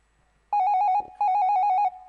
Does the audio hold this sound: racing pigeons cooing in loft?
no